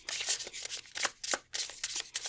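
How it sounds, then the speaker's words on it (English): A deck of tarot cards is shuffled close by in quick riffling bursts, crisp papery flutters and slaps repeating rapidly with brief gaps, without speech. "just as I shuffle this"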